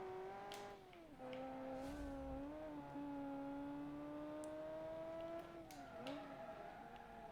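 A powerful car engine in a racing video game, tuned to sound more urgent, holds a loud steady rev with pitch dips at gear changes, running alone without talk.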